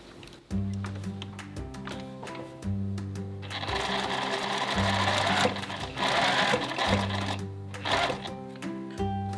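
Domestic sewing machine stitching a seam pocket in a sewing lesson, its needle running in quick repeated bursts of steady mechanical whirring with brief pauses between, close and clear.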